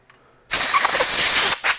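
Hand sanding a resin-turned Easter egg gives a loud, steady abrasive hiss for about a second, with a short second scrape right after it and no talk.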